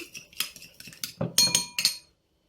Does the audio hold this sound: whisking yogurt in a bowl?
yes